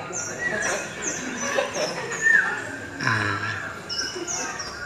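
Audience members at an Islamic religious lecture imitate birds with scattered whistled chirps and tweets, some brief and high, some drawn out, mixed with the murmur of a crowd and voices.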